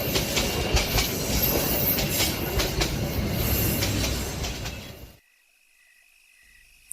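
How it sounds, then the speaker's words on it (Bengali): A train rumbles and clatters steadily along the rails with a broad roar into Naraikhali station at night, then cuts off abruptly, leaving near silence and a faint high tone. "রাত প্রায় 10:30 নাগাদ ট্রেন এসে পৌঁছালো নড়াইখালি স্টেশনে"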